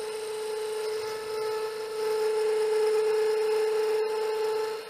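Wood cut with a bevel-riding gouge while turning a small finial on a lathe, a steady tonal whine from the spinning lathe with a light scraping cut, close and continuous, no talking.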